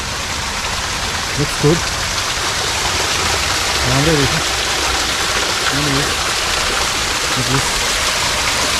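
A waterfall rushes in a steady, broad wash of water noise that fills the air, with people talking briefly over it.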